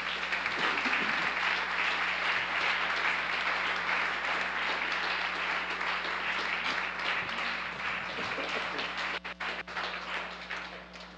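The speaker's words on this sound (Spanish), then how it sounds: "denme un fuerte aplauso al Señor" A church congregation applauds during a Spanish-language service, producing dense, steady clapping that fills the space for about eleven seconds at a consistent, loud level.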